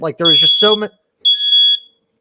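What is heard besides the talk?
smoke alarm beeping, set off by vaping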